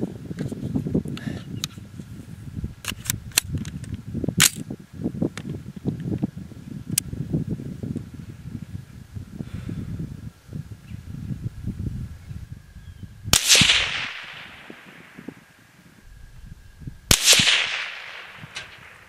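A rifle fitted with Leapers UTG 30mm quick-detach scope rings fires two sharp, loud shots a few seconds apart at a range, each followed by a short echoing decay. Quieter shuffling and handling noises come before them.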